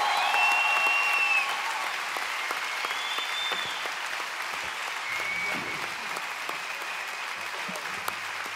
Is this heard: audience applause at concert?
yes